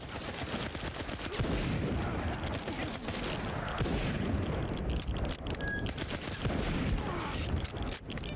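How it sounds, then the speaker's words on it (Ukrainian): Rapid rifle fire crackles in dense, repeated bursts over a continuous noisy backdrop, loud and close, game sound effects from S.T.A.L.K.E.R. 2: Heart of Chornobyl. "Ну і стріляє непогана ця гвинтівочка"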